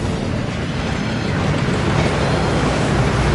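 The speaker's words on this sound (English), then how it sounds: "That waterfall washes away all enchantments." The Thief's Downfall waterfall inside Gringotts in the Hogwarts Legacy video game roars as a dense, steady rushing wash of falling water, loud and constant with no voices.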